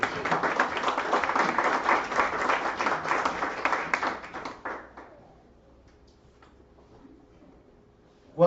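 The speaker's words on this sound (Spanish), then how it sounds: "Siéntense y denle un fuerte aplauso a nuestro Señor." A church congregation applauds loudly and steadily for several seconds before the clapping tapers off into a quiet room.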